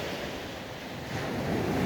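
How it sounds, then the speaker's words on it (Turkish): Rough sea waves surge onto rocks and a concrete shore in a continuous loud roar of churning water, with wind buffeting the microphone. "Bak deniz şuraya kadar çıktı yani. Şimdi içeriye kadar çıktı."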